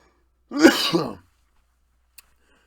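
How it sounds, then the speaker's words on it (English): One short, harsh cough right up close, followed by silence and a faint click. "sorry about that cough"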